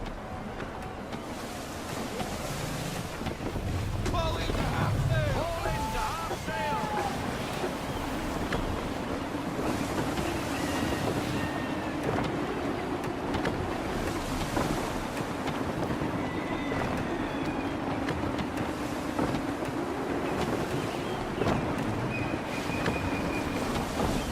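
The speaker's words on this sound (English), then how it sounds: "Gusty winds can be difficult to manage." Gusty wind rushes around a sailing ship at sea in Assassin's Creed III, a continuous loud roar mixed with waves washing against the hull and occasional creaks.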